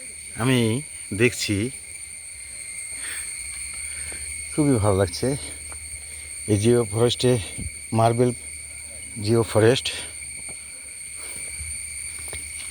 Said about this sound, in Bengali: ঝিঝি পোকার ডাক।